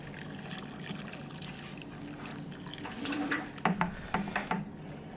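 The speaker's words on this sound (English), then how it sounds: "Then we just top it up with cold water to about 23 litres." Cold water pouring and trickling into a wine fermenter, topping it up to about 23 litres, steady at first, then splashing and gurgling more loudly toward the end.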